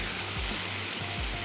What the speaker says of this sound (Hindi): कुछ देर के लिए इसको और भूनते हैं